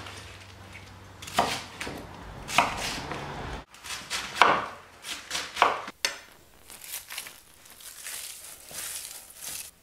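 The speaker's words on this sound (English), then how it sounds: "remove those outer leaves, and then chop it into strips" A knife chops purple and green cabbage into strips on a cutting board, with bursts of crisp crunching strokes in quick runs separated by short pauses, close and without talk.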